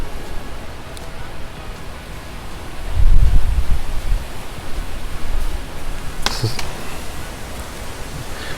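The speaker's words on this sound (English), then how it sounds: "As you can tell, it's quite windy today." Steady gusty wind rushing outdoors, a broad low roar with a stronger gust midway, moderately loud throughout.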